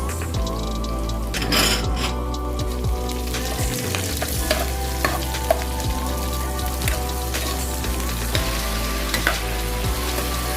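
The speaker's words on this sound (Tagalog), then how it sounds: "Then nilagay po natin yung sibuyas" Onions frying in a pan with garlic for a fish dish, giving a loud, dense crackling sizzle like rain on a surface, with occasional utensil scrapes and clicks up close.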